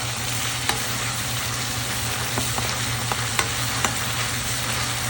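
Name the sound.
ginger and garlic frying and stirred into spice masala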